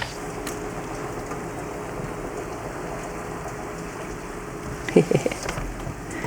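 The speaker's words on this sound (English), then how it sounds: "Lovely drizzle." Light drizzle falls outside on a rainy day near a waterside with boats, a faint steady wash of rain with a few soft knocks near the end.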